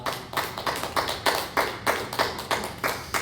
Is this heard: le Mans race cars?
no